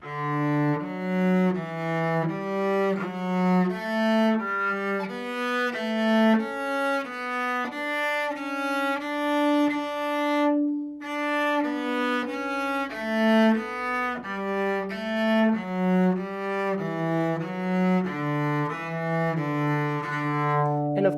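A one-octave scale variation exercise played up to speed on a pitched instrument as a lesson demonstration, a steady run of clear, evenly spaced notes stepping up and down with no talking.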